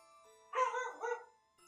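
A single dog bark, a short two-part woof, heard alone over near silence in the Harvest December game.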